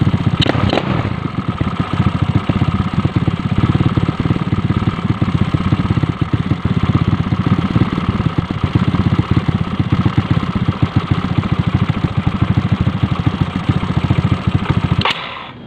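A Yamaha Mio scooter with a 28mm carburetor idles steadily and close by, a continuous, even putter that runs without a break before cutting off abruptly at the end.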